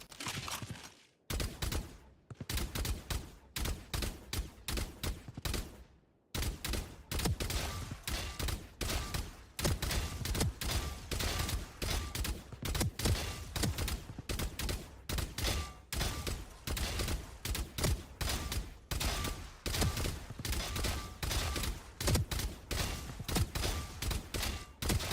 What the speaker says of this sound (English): 2 bullet burst.